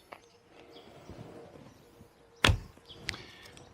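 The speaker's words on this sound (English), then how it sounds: "I simply shoot my arrows like I want to." A sharp, loud snap of a bowstring releasing an arrow, followed moments later by a fainter thud, over quiet rustling outdoors.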